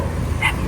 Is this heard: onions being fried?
no